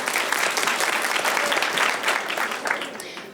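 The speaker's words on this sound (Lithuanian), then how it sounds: "plojimais pasitinkame Indras kortelę" Audience applause on a Lithuanian game-show set, a steady dense clatter of many hands that fills the whole stretch at moderate loudness and eases slightly toward the end.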